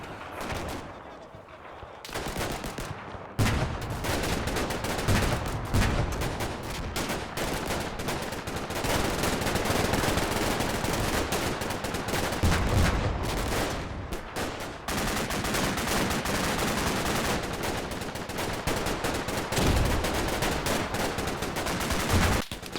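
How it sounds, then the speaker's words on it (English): Infantry in a war video game advance on an Italian line under dense gunfire, rapid machine gun bursts and rifle shots layered into a near-continuous loud barrage, with a narrator's voice speaking over it. "They advance slowly on the Italian line, keeping their heads down and dumping bounding salvos of fire onto the enemy."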